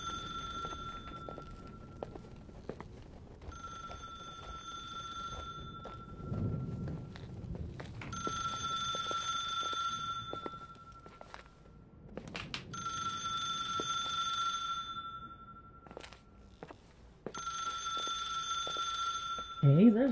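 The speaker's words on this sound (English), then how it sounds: "Hey, there's a phone ringing somewhere," A telephone rings in the video game The Sewerslide of Rachel Foster, sounding in repeated bursts with pauses between them, heard at moderate distance over faint background noise and a few footsteps.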